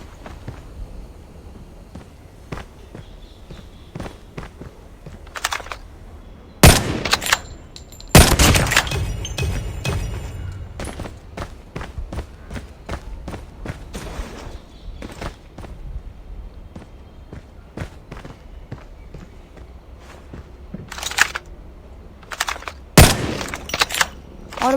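Gunfire in the Call of Duty video game during a 1v1 match: scattered sharp shots, with a few loud, close cracks in separate bursts over a low background of movement and footsteps.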